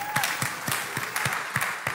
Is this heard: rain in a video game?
no